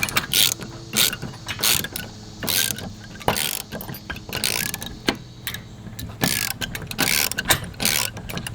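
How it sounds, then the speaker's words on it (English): Metal parts of a DIY solar panel roof rack for a van being bolted together, giving a run of close clanks, ratcheting clicks and sharp metallic knocks at an irregular pace, with no talking. "going to bolt all of these together, make it one solid unit"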